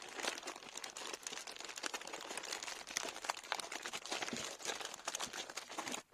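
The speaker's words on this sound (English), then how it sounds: "Well then, I'll just cut it." Cardboard package being cut open during an unboxing, a steady dense crinkling and scraping that runs continuously at close range before stopping abruptly at the end, with no talk.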